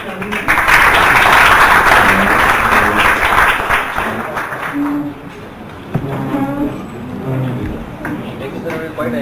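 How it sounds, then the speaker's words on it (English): Audience applause at an open source workshop, loud and dense for the first half, then thinning into scattered claps with talk over it. "I would request all of you to just join me in applauding them."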